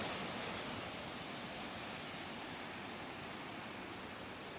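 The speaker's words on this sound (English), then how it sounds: "The river is nice." River in Hakone, Japan, flowing steadily as a faint, even rush of water with no other sounds.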